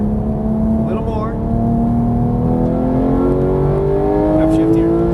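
Porsche GT3 engine pulling hard under throttle with a steady rising pitch, loud and close throughout, with a voice talking over it.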